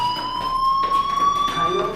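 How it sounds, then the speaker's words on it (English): A fire alarm rings inside the Life is Strange video game, a steady electronic tone that holds and pulses over about two seconds, mixed with the game's background sound. "Hey, do you hear that fire alarm?"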